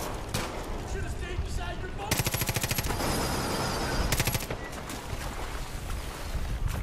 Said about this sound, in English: I'll shoot Sharky.